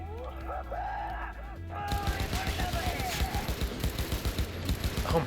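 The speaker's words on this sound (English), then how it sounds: "Oh my gosh, this gun kicks like crazy" A hard-kicking gun in the Cyberpunk 2077 video game fires steadily, with rapid, evenly spaced automatic shots following a quieter stretch of game sound.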